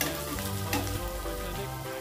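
Spicy brinjal curry being stirred in a pan, with a steady close sizzle from the oil and scraping strokes of the spoon running throughout the short stretch, and no voices.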